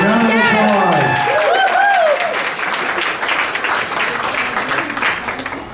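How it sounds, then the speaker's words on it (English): Loud applause and clapping from a crowd at a Citrus Club childhood cancer event for the kids' doctor, starting under a voice speaking and continuing in a dense burst. "So, a round of applause"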